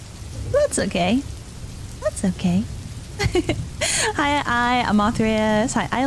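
Steady rain falls outside, a soft continuous hiss that runs under close, lively talk throughout.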